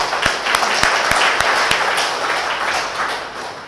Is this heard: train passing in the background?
no